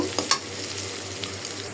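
Soft, steady sizzle of onions and green chilies frying in a pan, with a couple of brief clinks near the start.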